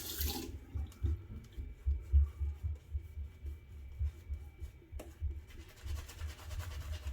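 Water running quietly from a tap, a faint uneven trickle with small clinks and bumps around it.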